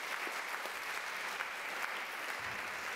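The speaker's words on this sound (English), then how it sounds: "Give him a round of applause." Applause from an audience at an evening comedy talk event, a steady wash of clapping heard from a moderate distance and held at an even level throughout.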